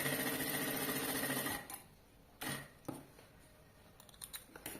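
Sewing machine stitching the side seam of a convertible bag-backpack, a quiet steady run that stops after about a second and a half, followed by a few short clicks and handling noises.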